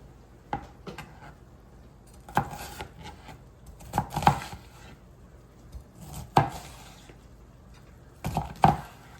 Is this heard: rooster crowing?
no